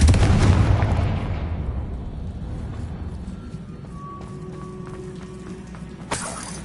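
A heavy booming blast from the Confringo fire spell in Hogwarts Legacy, loud at the start and decaying into a long rumbling tail, followed by faint chimes and a sharp later crack.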